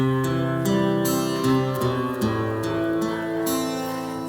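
Guitar drenched in reverb set to maximum, sustained chords ringing into a long wash of ambience, loud and continuous with soft strums and no talking.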